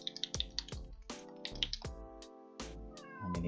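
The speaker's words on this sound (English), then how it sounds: "Is my cat that loud?" A pet cat meows loudly and close by in a quick series of repeated calls, about seven distinct meows over a few seconds, each with a bright rising-falling tone, with no talking over them.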